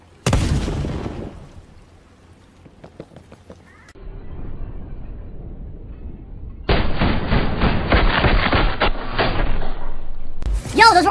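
Gunfire in a Treyarch video game, a loud blast early on, then a stretch of rapid repeated shots.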